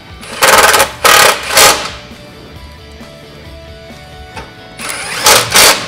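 A power tool drives 10 millimeter bolts into the air filter housing of a Lavina grinder, in loud, close bursts of buzzing whine separated by short pauses, with quieter mechanical hum between.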